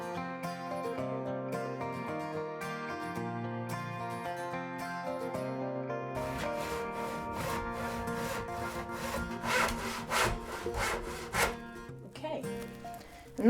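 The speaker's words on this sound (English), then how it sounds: "We're now ready to cut our wood." A hand saw rasps through softwood 3x2 timber in quick repeated strokes that grow louder toward the end, heard under steady background music.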